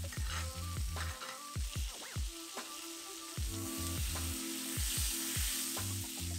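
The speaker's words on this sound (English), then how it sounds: "I'm going to go ahead and add in 2 tablespoons of butter, and I'm just going to let that melt in, and then all I'm going to do is baste my steak" Steak frying in a pan while being basted with spoonfuls of melted butter, giving loud crackling sizzle broken by rhythmic spoon scrapes and splashes, close and continuous with no talking.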